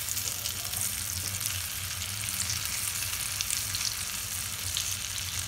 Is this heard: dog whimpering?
no